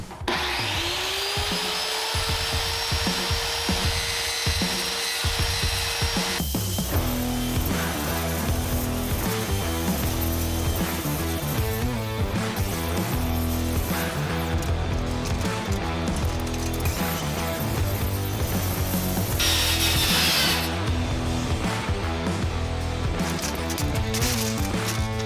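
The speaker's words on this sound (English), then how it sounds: "So we got the firewall cut and put into place." A power tool cuts into a firewall for a YZ450-powered buggy, a loud continuous grinding and rasping that runs for a long stretch with only brief shifts in pitch.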